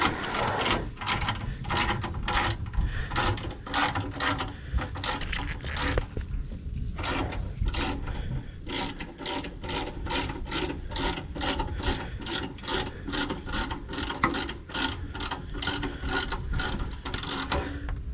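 A hand ratchet clicks rapidly while turning a nut on the air tank of a 2007 Freightliner Columbia truck, close and loud, in steady bursts of sharp ratcheting with short pauses between strokes.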